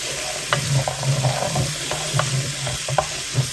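Big chunks of bacon sizzling and rendering in a pot for Puerto Rican rice and beans, a steady close crackle broken by occasional stirring scrapes, with no talking.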